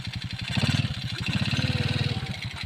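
Modified motorcycle built for hauling palm oil fruit pulling forward, its engine chugging in a steady pulsing rhythm close by, loud and continuous.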